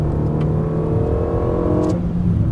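Car accelerating hard out of a corner on the Dreux racing circuit, a loud, close, steady engine roar rising in pitch, heard from inside the car with no talk.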